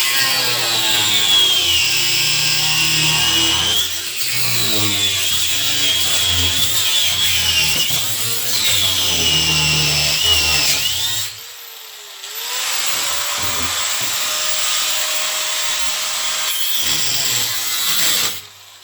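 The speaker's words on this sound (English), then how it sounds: "So here we are, cutting and grinding, making lots of noise." A loud power tool grinds and cuts through a thick metal floor, with a harsh, continuous high-pitched whine, a brief pause, then cutting again.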